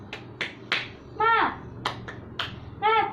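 A classroom group does a rhythmic clapping chant during a teaching-skills session, sharp claps in quick bursts alternating with voiced chanted calls, close and lively.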